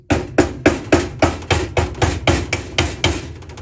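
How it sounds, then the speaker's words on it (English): A hammer strikes a screwdriver to pry a part off a Honda Trail 70, about a dozen sharp metallic blows in a quick steady rhythm, loud and close. "I'm going to take a hammer and a screwdriver and see if I can pry that off"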